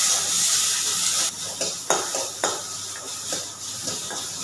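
Tomatoes being sautéed in a kadai while making cabbage chutney, a steady sizzling hiss under brief scraping and clinking stirs of a utensil against the pan, close and fairly loud with no talking.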